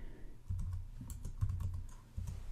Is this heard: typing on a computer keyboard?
yes